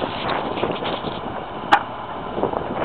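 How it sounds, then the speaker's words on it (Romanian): Wind buffets the microphone outdoors as a steady, rough rumble through the whole stretch, with one brief sharp knock partway through and no speech. "Încă tremur, mă bate vântul."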